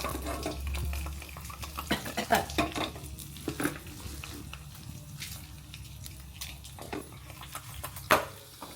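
Urad dal, mustard seeds and dried red chillies frying in coconut oil for a mango tambli, giving a soft sizzle broken by sharp spoon clinks and stirring taps on the pan, with no talking.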